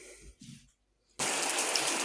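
Rain falling outdoors over a vegetable garden in summer, a steady, fairly loud wash of drops that starts abruptly after a brief quiet and continues evenly; a few faint sounds precede it.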